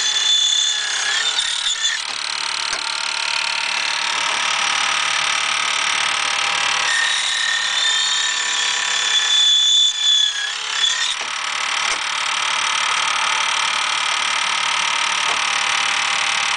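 A fret cutting machine cuts slots into a guitar fingerboard with a loud, steady high-pitched whine. The cutting noise holds throughout with slight pitch shifts and no talking.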